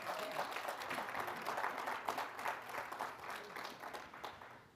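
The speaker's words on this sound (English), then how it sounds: "Let's give all the awardees another round of applause" Awardees at the Apex Awards luncheon receive another round of applause from the seated guests; a moderately faint, dense patter of many hands clapping, rising and gently fading over a few seconds, with no talk.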